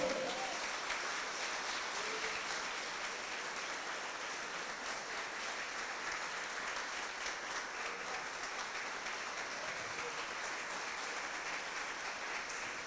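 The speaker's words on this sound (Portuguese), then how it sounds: "Aplaude ao Senhor." A church congregation at a worship congress applauds continuously in a reverberant hall, moderately distant and steady throughout, with faint background voices.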